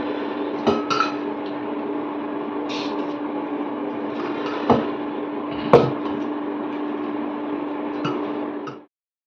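Thick rajma mixture being scraped and spooned from an induction-proof kadai into a pressure cooker, a steady hum under occasional metal clanks and knocks of utensil against pot.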